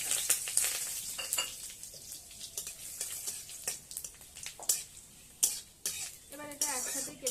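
Panch phoron, two dried red chillies and two bay leaves frying in hot oil, crackling and popping in sharp bursts over a softer sizzle, with clinks of a utensil against the pan and a voice speaking briefly.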